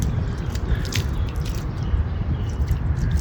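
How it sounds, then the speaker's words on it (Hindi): Tap water splashing and spattering over a car's body outdoors during a driveway wash, a steady close wet hiss with scattered drips and squishy splashes throughout, no talking. "ये अल्हम्दुलिल्लाह पानी खैर से आ रहा है और ये डालेंगे गाड़ी के ऊपर।"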